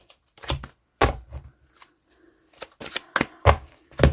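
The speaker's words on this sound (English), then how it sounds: "Okay, two more shuffles." Repeated riffle shuffles of a deck of cards, crisp bursts of flicking with short pauses between them, close up and without talking.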